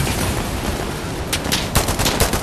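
A QTS rifle fires in the shooter game Insurgency Sandstorm: several sharp cracks and short bursts ring out in the second half over a dense, noisy battlefield background of distant gunfire, with no talk.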